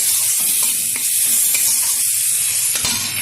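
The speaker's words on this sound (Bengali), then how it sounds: "দিয়ে দিচ্ছি অর্ধেক কেটে রাখা টমেটো, আবারও একটু কষিয়ে নিচ্ছি" Halved tomatoes frying in a pan of spices for a spicy tilapia fish curry with eggplant, giving a loud, steady hiss of sizzling oil with occasional faint scrapes of a stirring spoon, close up and without talk.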